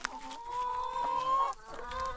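A ranch chicken clucks close by in a steady run of short, nasal calls, loud and clear with no talking over it.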